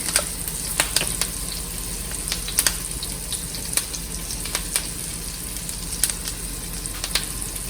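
A T-bone steak fries in a pan with thyme and rosemary, giving a steady close sizzle broken by sharp pops and crackles scattered irregularly throughout.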